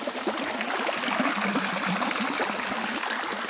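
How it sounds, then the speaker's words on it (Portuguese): Water streams over a rock slab on rural land in Pernambuco, a continuous bubbling, gurgling rush heard close and steady without talk. "A água vem desse de cima aqui. Muita água."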